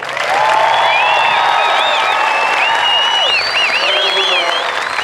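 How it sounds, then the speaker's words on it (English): A large crowd claps and cheers loudly for 810 new airmen at an Air Force Basic Military Training graduation parade, a dense, steady roar of applause with whistles rising through it from start to finish. "Can we give them a round of applause?"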